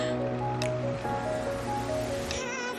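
Soaked peas tipped into a pan of frying spiced minced meat for keema ghugni, giving a steady wet squishing sizzle with soft splashy bursts throughout, close and fairly loud.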